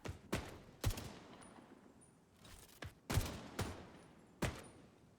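Quiet bursts of gunfire from The Division 2 land in irregular pairs and single shots, sharp cracks with short tails separated by lulls, with no voices.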